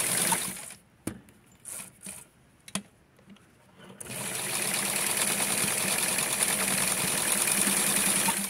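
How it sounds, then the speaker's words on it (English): Sewing machine stitching the back and front of a doll's blouse or romper top from Cluny lace, with short stop-start bursts at first, then a steady, continuous close-up whirr. "I'm going to put the back and the front together and sew this into what's going to be Britney's blouse"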